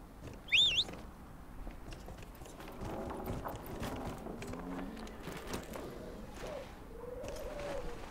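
A horse's hooves clip-clop at a steady walking pace in Dragon Age Inquisition, moderately close. A short, bright whistle-like call sounds near the start.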